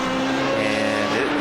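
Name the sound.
Formula 3.5 race car driving at Zolder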